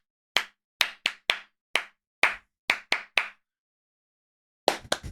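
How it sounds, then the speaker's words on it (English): Single sharp hand claps, about nine spaced irregularly over a few seconds, then a pause and a quick burst of three more, close and dry against silence. "You're bad at clapping."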